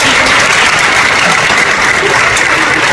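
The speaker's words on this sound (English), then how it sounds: "Please, give yourselves a round of applause." Audience applause at a World Language Honor Society ceremony, a dense, loud, continuous clapping from a full crowd that sustains throughout without voices.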